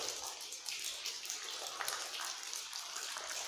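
Soft, scattered water drips and trickling echo faintly inside a limestone cave, Longhorn Caverns in Texas, irregular and quiet, with no talking.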